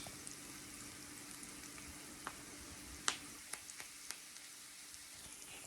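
Onions sautéing and caramelizing in a pan, a quiet steady sizzle with a few sharp pops and crackles scattered through it.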